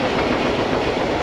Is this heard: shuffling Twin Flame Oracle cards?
no